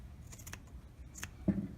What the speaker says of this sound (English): you can always cut the extra out.